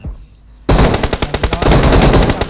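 Rapid automatic gunfire from a battle royale video game bursts in suddenly after a quiet moment, loud and close, with repeated shots rattling in quick succession and continuing to the end.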